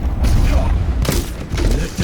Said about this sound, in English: Junkenstein lobbed his bombs at the castle, the explosions a percussive accompaniment to the sound of his laughter.